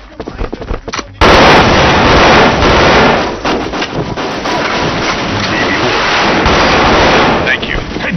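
Rapid gunfire in a shooter video game bursts in loudly and continues as a dense, sustained barrage of shots with a rushing wind-like wash over it.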